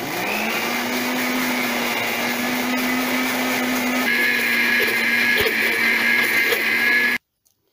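A blender whips homemade mayonnaise with a steady, loud motor whine that strains slightly as the sauce thickens, running alone for about seven seconds before cutting off abruptly.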